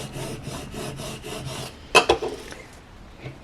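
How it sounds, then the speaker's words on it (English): A scraper tool rubs vinyl decal down onto an acrylic table number, giving a run of regular rasping strokes followed by a few sharper scratches and then quiet. "Give it a scrape"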